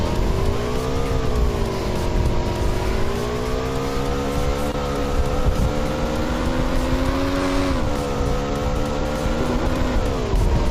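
Motorbike riding in a battle-royale shooter game, a steady loud engine drone that rises and falls in pitch as the bike speeds up and slows, continuous throughout.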